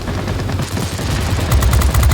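Aircraft guns firing in World of Warplanes, a loud, rapid rattling stream of shots that grows denser and heavier toward the end, with no talking.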